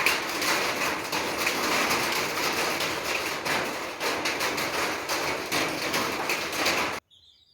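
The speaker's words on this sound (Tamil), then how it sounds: "இப்போ தான் ரொம்ப நாள் கழிச்சு எங்கள் ஊரில் மழை பெய்யுது" Steady rain falling in a village after a long dry spell, a dense continuous hiss and patter that holds loud for seven seconds, then cuts off abruptly into near silence.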